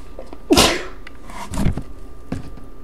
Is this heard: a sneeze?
yes